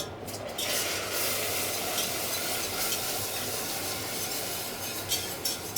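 Warm milk being whisked into a bechamel sauce in a pan, a continuous brisk scraping and swishing that stays steady and close for several seconds with no talking.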